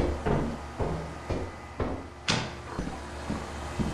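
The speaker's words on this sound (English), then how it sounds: "Gotta be a door." Doors in the video game Lethal Company open and close in a series of hollow thumps and clunks, about eight evenly spaced knocks with one sharper creak, moderately loud with no talk.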